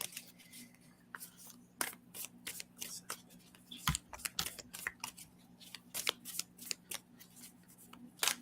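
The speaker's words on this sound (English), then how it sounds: "Come on, card shuffle." A deck of tarot cards being shuffled for a reading: repeated crisp riffles and flicks close by, in irregular bursts across the whole stretch, with a low steady hum underneath.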